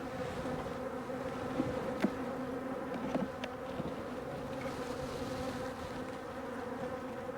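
Honeybees buzz densely around a hive frame bearing pollen and honey, a continuous close swarm drone with occasional louder individual passes.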